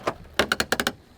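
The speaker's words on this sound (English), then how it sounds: "Put a screw there. Use your hammer." A hammer taps a screw head down flush during a skid steer plow repair, one knock followed by a quick run of six sharp metallic taps, close and alone.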